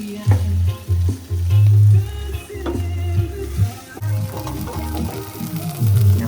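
Sardines in a red sauce sizzle in a pan while being mixed, loud close bubbling and spattering with recurring scrapes and thumps of the spoon, the stirring rhythmic throughout.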